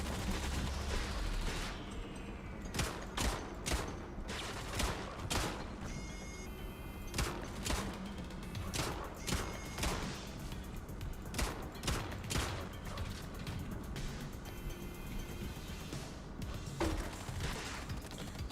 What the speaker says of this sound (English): someone's firing a grenade launcher at me